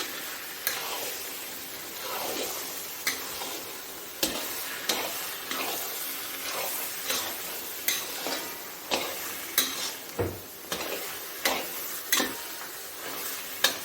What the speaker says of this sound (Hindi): अब इसको मैंने अच्छी तरह इसमें मिक्स करना है अंडों को।